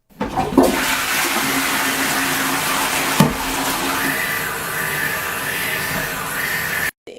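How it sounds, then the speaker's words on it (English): A household toilet in Australia flushes with a loud, steady rush of water that lasts about seven seconds, with one brief clunk partway through, before cutting off abruptly. "However, our toilets flush like this."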